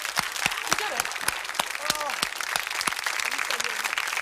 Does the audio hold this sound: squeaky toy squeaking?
no